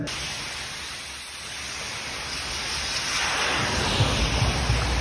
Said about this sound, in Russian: Тем временем, пока снаружи идет дождь